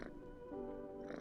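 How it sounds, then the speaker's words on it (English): A video game cat being petted gives a faint, soft, tonal purring murmur, quiet and brief. "Pet the cat."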